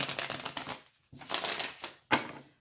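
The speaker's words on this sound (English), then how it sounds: "I'm going to do just one little quick shuffle here for you." A deck of tarot cards being given one quick shuffle up close, with two bursts of rapid papery riffling and a sharp final snap as the cards come together, quiet and without talk.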